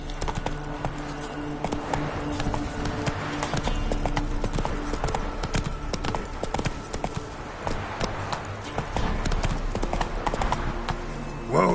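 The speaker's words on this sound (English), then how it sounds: "Whoa there, Roach" Horse hooves clip-clop steadily at a gallop in The Witcher 3 on PS5, a dense continuous rhythm of hoofbeats with game music and a voice occasionally over it.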